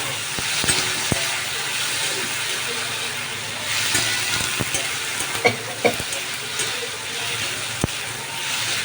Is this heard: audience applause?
no